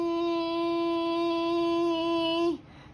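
A voice imitates swarming mosquitoes and black flies with a single steady, buzzing nasal drone held for about two and a half seconds before cutting off abruptly, close and loud.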